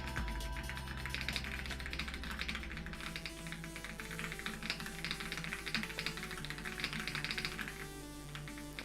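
Rapid typing on a computer keyboard during a timed typing test, a dense continuous patter of keystrokes that runs steadily throughout, close and fairly quiet, with no talking.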